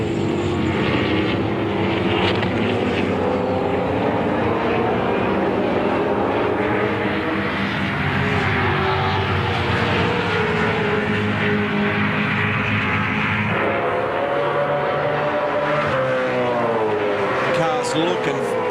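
V8 Supercar race cars at Phillip Island roar past in a dense, continuous wall of engine noise, pitches rising and falling as they shift, with a commentator talking over the racing.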